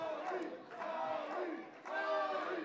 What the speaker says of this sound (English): Crowd getting behind it.